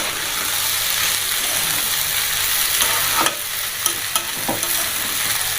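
Rice that has been soaked is stir-fried in a pan for masoor pulao, giving a loud continuous sizzle with repeated scraping strokes of the spoon, heard up close.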